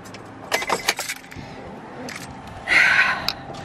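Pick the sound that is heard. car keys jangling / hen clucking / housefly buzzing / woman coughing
car keys jangling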